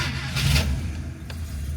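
A 1964 Rambler car starts up, a brief cranking burst giving way to a steady low engine idle, close and fairly loud, setting off on a long drive home.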